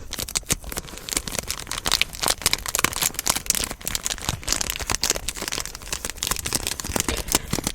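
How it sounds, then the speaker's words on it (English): Cigar wrapper crinkled close up in a steady, continuous stream of crisp, papery crackles and rustles, no voices. "And let's enjoy some crinkles."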